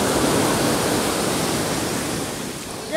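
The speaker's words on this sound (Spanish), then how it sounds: "No son olas de principiante." Ocean surf rolls in a steady, broadband wash at a beach where the waves are too big for beginners, loud and continuous with no voices.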